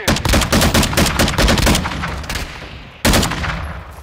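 A tactical rifle firing in a shooter game: a loud, close string of rapid shots, a pause as the sound fades, then a sudden fresh burst.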